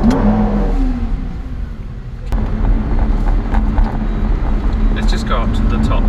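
A Lamborghini car drives with a steady, throaty engine drone close by, rising in revs midway, with people talking over it inside the cabin.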